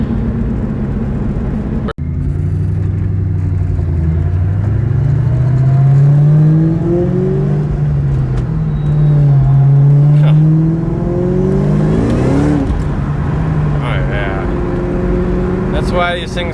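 A 2003-04 Ford Mustang SVT Cobra Terminator engine revs loudly and close, its pitch rising and falling through repeated throttle blips, with a sharp knock near the start and someone talking over it.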